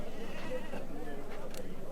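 A goat bleats at a goat market in Mullanpur, faint and brief amid murmuring voices and general crowd noise.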